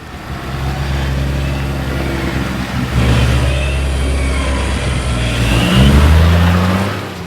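A 4WD stuck in a Tasmanian bog hole, its engine revving hard and loud in second and third gear, holding a steady high drone that surges twice and then drops away, with no voices.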